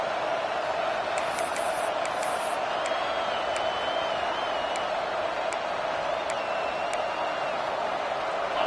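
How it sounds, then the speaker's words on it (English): A dense, steady roar from a packed stadium crowd at a football game rumbles continuously at a distance, with occasional faint whistles and shouts poking through the wash of noise. "with this place rocking, the crowd forces a false start"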